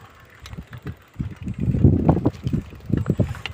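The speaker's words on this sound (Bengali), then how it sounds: "প্রচন্ড বাতাস।" Strong gusting wind buffets the microphone in uneven bursts that swell loudest in the middle, while a bicycle rattles and thumps along a field path.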